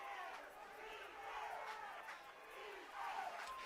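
A high school football crowd in the Cardinals stands makes a faint, distant roar with rising swells of cheering on a night game.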